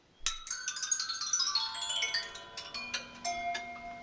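A small screw drops into a spinning turbine engine compressor and rattles through it, a sharp metallic clink followed by a rapid cascade of ringing pings and tinkles that slowly thin out and fade.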